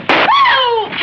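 A single gunshot in a Western radio drama: a sharp, loud crack followed by a sustained whining ricochet tone that falls and fades over about a second.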